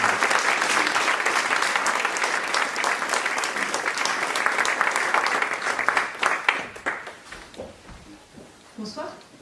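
Applause from an audience at a wetlands conference on climate fills the room with dense clapping, then thins into scattered claps as a speaker begins talking over the fading sound.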